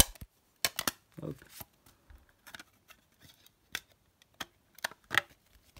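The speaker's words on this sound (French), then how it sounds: "Attendez, je vais enlever la carte." Pokémon card being pried out of a plastic grading case, a series of sharp plastic clicks and snaps scattered across the clip with a brief scraping rustle, close up, with someone speaking briefly.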